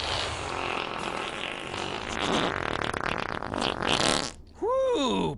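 A long, loud, rasping fart rumbles for several seconds, then breaks off and ends in a short rising-and-falling croak like a frog's call.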